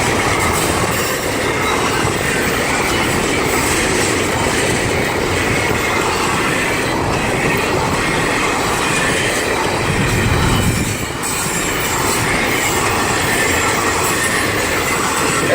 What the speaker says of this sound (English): Might be a long train because one hadn't come by yet